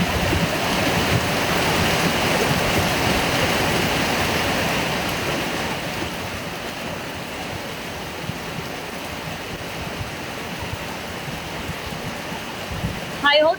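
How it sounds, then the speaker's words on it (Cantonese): Heavy rain pours in a steady, dense wash, loud and close throughout and easing slightly partway through. "你睇下幾大雨"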